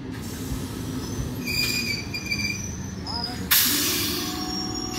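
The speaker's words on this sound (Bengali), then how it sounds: "Up Bandel Naihati local." Up Bandel–Naihati local train at Hooghly Ghat station, a steady rumble of passing carriages with squealing wheels and a sharp hissing burst partway through, heard close by.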